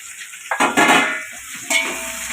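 Sliced onions, cut lengthwise, dropped into hot oil for chicken biryani, starting with a sudden bright sizzling burst followed by steady crackling frying and a second surge, close up with a faint metal clink, no talking.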